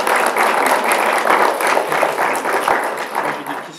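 An audience at a mock courtroom pleading by trainee lawyers claps in a full, continuous burst of applause that tapers slightly at the end, close and lively.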